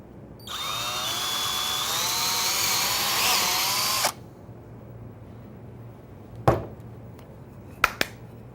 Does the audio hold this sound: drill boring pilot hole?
yes